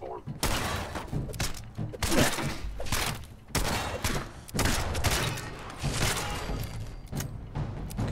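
Gunfire in the VR video game Fallout 4 VR: a dense run of loud, close shots and impact bursts mixed with a voice talking and exclaiming over the shooting.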